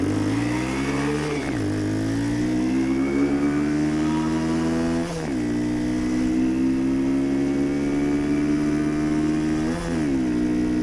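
A custom 1967 Honda CT90 motorcycle fitted with a swapped YX140 engine drones loudly and steadily while riding, its pitch climbing through the gears with three brief dips at each shift.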